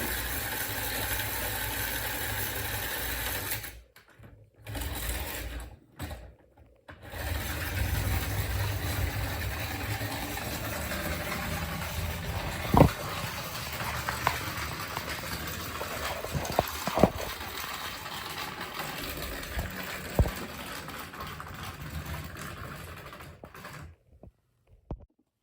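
A steady mechanical whir and clicking of a small Lincoln International HO scale clockwork train running on track, with occasional brief pauses and light ticks.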